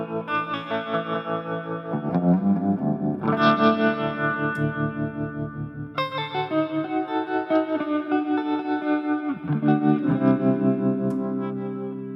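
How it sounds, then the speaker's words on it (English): Electric guitar played through a vibrato preset on a Mooer SD30i amp, distorted chords and riffs with a pulsing wavering modulation, loud and close, several strummed phrases with no talking. "There is a vibrato."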